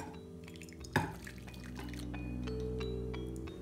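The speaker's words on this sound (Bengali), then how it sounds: "এখন আমরা পরিবেশন পাত্রে ঢেলে দিব।" Thick corn soup is poured into a serving bowl, giving a soft liquid stream, a clink of the dish near the start, and gentle wet drips, quiet and close.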